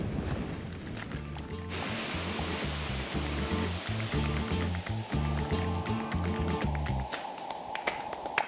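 Sea waves on a big open beach at Agua Amarga, Spain: a quiet, continuous wash of surf with low rumbling thumps underneath and no voices.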